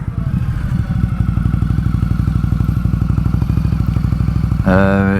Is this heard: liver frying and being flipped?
no